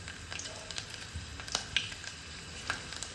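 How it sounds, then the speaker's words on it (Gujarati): Chopped garlic and ajwain sizzling in hot oil, giving a soft, steady crackle with scattered small pops, fairly faint and close, with no talk over it. "તેલમાં આપણે લસણની ઝીણી કટકી અને અજમા નાખી દઈશું"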